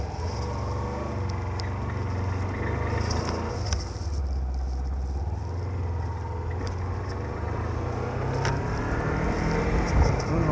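A motorcycle rides along a road, its engine droning steadily with slight pitch rises and falls as it changes speed, mixed with wind buffeting on the mic.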